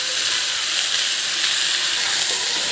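Onion and garlic paste frying with potatoes in hot oil for a spicy pabda fish curry, a dense continuous sizzle and crackle heard up close without pause.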